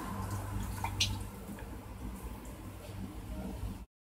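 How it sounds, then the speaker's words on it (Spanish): Water from a jar of cooked lentils drains out in a steady, close dripping trickle for about four seconds in a kitchen, with a few brief louder splashes near the start before it cuts off. "El siguiente paso sería escurrir el agua de un bote de lentejas."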